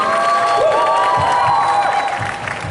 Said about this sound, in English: give him a huge round of applause again